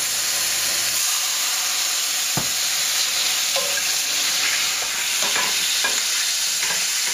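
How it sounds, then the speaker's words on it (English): Potatoes frying in a pan give a loud, constant sizzle and hiss, with scattered scrapes and knocks of a utensil as they are stirred. "I'm going to stir my potatoes. These potatoes are almost done."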